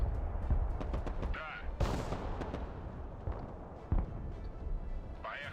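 Heavy machine gun on a vehicle fires in Broken Arrow amid a dense battle, bursts of gunfire and booms layered over continuous rumbling combat noise, with voices talking underneath.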